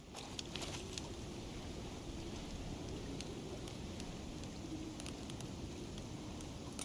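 Steady rain in a storm in the survival game Icarus, a constant wash of hiss with occasional faint cracks and rumbles, moderately quiet and without voices.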